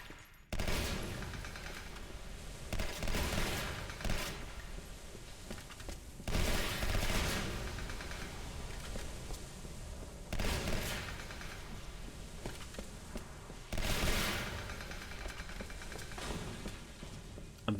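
Bursts of video-game gunfire from Half-Life 2, loud rapid volleys arriving in four separate clusters with brief lulls between them, and no talking.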